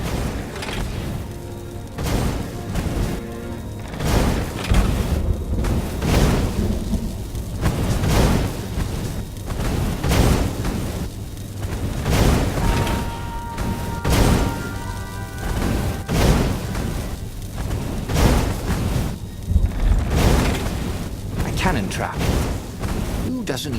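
Cannon blasts and explosions boom repeatedly in the video game Stories: The Path of Destinies, a steady series of heavy thuds over music and game noise for the whole stretch.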